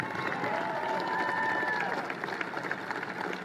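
A crowd applauds and cheers for the Penn Energy team at a gathering, with a dense steady wash of clapping and a few whistle-like tones rising through it for about three and a half seconds.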